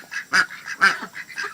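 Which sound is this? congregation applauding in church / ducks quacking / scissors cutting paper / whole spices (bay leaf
ducks quacking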